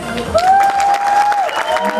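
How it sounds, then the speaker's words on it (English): An audience at a costume contest applauds and cheers for the judges: a short burst of clapping with a sustained whooping voice rising above the crowd. "So give it up for our judges."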